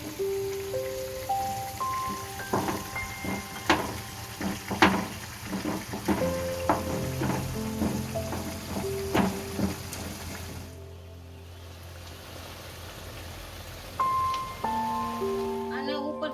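Potatoes for street-style Navsari pav bataka are gently mashed in a hot pan, with soft repeated tapping and scraping over a low sizzle, a short quieter gap, and background music tones throughout.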